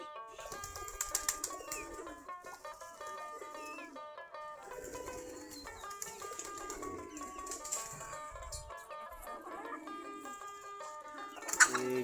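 Desi Giribaj pigeons in a loft walking about after feeding, with scattered coos, wing flaps and light rustling over a steady background, no one speaking.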